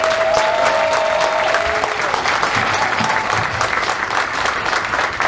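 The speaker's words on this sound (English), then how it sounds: "How about a round of applause for our Attorney General" Applause from a campaign kickoff crowd for the Attorney General, dense and steady for the full stretch, with a faint voice briefly audible near the start.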